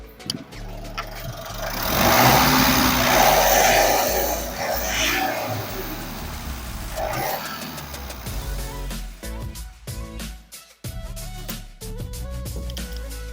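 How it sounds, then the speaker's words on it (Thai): A Mitsubishi Triton Plus 2.5 diesel pickup engine revs up loudly, holds a high roaring whine for a few seconds, then drops back to a throbbing, clattering idle nearby. "ผมจะลองเร่งเครื่องให้ฟังครับ"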